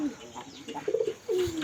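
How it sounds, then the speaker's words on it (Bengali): Bombay pigeons on a pigeon farm coo in several short, close calls, rising and falling murmurs with a longer drawn coo near the end, moderately quiet. "দেখেন আমার বোম্বাই কবুতরগুলো দেখেন, মাশাআল্লাহ কবুতরগুলো সুস্থ সবল"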